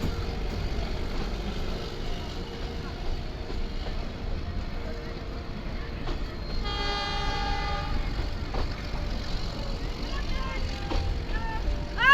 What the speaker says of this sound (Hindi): यहाँ पर अपनी ट्रेन का जो लोकोमोटिव है वो रिवर्स डायरेक्शन में लगाया गया है।